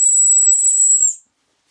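A single long, shrill, steady dog whistle tone, loud and close, holding for about a second before cutting off into silence.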